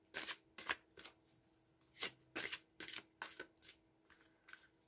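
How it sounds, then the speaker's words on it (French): Oracle cards, including angel-of-love cards, being shuffled and drawn for a tarot reading, heard as a series of close, crisp riffling bursts and soft slaps spaced irregularly, with no talking. "On va se prendre une carte des anges de l'amour pour le côté émotionnel."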